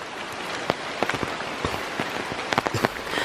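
Heavy rain pours steadily on a rural property with durian and coconut trees, a dense close hiss with scattered louder drop impacts and no talk over it.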